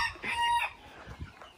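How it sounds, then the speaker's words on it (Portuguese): A rooster crows in a drawn-out call over faint background noise, heard during a Portuguese-language Among Us gaming session. "Com o cantar do galo."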